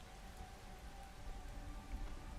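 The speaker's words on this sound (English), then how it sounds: "Look at all this fucking rain." Rain falls in the survival video game Once Human, a continuous, even hiss of drops on surfaces with no talking over it.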